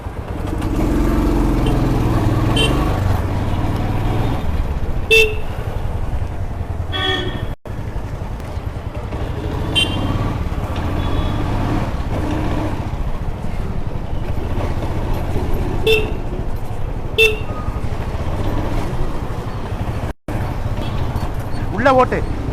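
Congested road traffic on poor-quality roads in Perungalathur, Tambaram, with a steady low rumble of engines and a few short horn toots sounding near and farther off.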